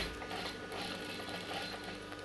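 A sewing machine stitches a blouse with a steady, continuous mechanical whir at fairly low volume, with no talking.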